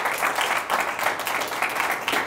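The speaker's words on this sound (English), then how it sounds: "why don't we give Brian a big round of applause?" Steady applause from an audience thanking the speaker Brian Yacktman at an investment talk: many hands clapping at once in a continuous, even wash that holds throughout, with no voices rising above it.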